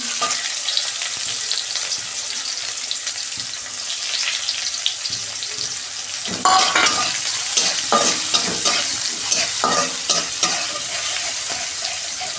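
Onions, tomatoes and salt fry in a pan with a continuous hiss and crackle, while a utensil stirs and scrapes through them and grows louder and busier partway through.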